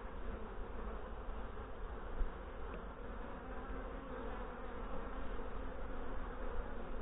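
A close, unbroken hum of many honey bees fills an open hive box during a September inspection, steady in level apart from a single short knock of the frames being handled.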